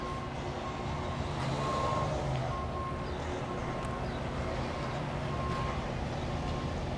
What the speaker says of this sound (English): Is that a tow truck? It is a tow truck.